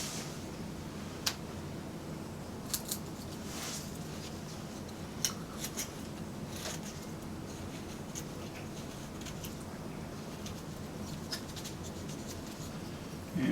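A Flexcut gouge scrapes and smooths a wood carving in faint, close strokes, with occasional sharp little scratches and clicks scattered over a quiet hiss.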